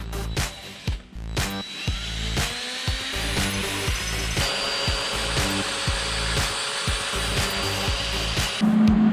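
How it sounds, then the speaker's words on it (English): A loud electric drill whirs steadily through several bursts, drilling bracket holes on an off-road lawn mower build, its motor winding up and down with knocks and clatter between holes. "Time to drill some holes."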